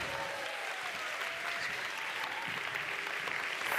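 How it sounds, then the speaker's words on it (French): Sustained applause from a conference audience, a dense steady clatter of many hands clapping throughout, no voices. "Vous pouvez les applaudir, oui."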